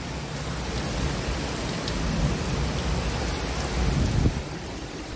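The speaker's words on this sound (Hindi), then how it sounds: "थोड़ी देर में बाहर की बारिश।" Heavy monsoon rain pours steadily outside, a dense hiss close by, with a low rumble of thunder swelling briefly near the end.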